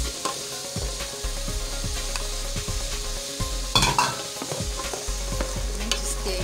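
Fried rice with green peas being stirred in a hot pan, with a steady sizzle and repeated scraping strokes of a utensil against the pan, close and continuous with no talk.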